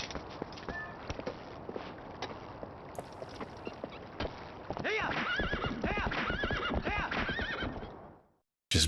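A horse gallops in The Legend of Zelda: Twilight Princess HD, with rhythmic clip-clop hoofbeats and whinnies that grow louder and busier partway through before cutting out near the end.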